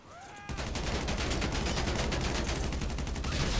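Rapid automatic gunfire rings out in GTA Online's Cayo Perico Heist, a loud, sustained burst of closely spaced shots that begins abruptly after a brief quiet lead-in and continues without pause.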